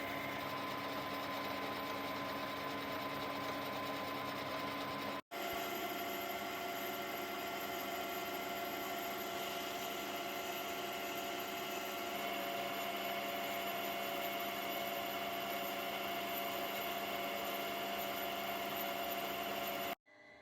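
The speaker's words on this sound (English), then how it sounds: "So pop that in the lathe." A metal lathe runs steadily as it turns down a piece of steel tubing in an engine workshop, a continuous loud mechanical whir with one brief dropout before it carries on and then stops.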